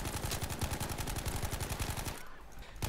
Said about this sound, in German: Das war ein Mate, der geschossen hat.